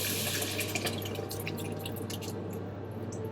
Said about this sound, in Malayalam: അപ്പൊ ഞാൻ പുളിവെള്ളം ഒഴിച്ചു.